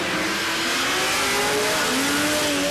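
Drag racing car at a no-prep cash-days event launching and accelerating down the strip, its engine roaring loudly with rising pitch throughout.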